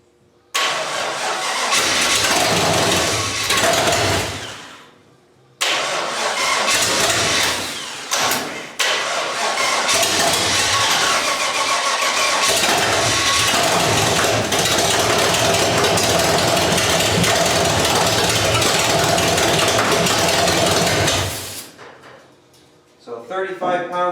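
Old engine fed from a gas can cranks and catches, running loud and rough at close range for many seconds, with a brief cutout early on, then dies near the end.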